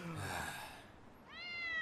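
A cat meows in an anime scene, one drawn-out meow near the start followed by a second rising, harmonic meow toward the end, close and clear with no talk over it.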